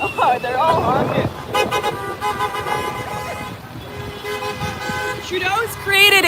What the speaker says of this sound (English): Oh, they're all honking.